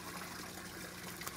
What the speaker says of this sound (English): Look at those guys flapping around in there.